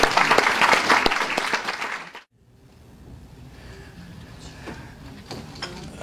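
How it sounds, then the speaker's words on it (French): Audience applause fills the room, loud and dense, then cuts off abruptly into quiet room tone with faint scattered noises. "On peut l'applaudir, l'accueillir ce matin"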